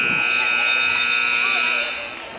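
A women's college basketball game buzzer sounds at the end of the first quarter, a loud, steady electronic tone held for about two seconds before fading.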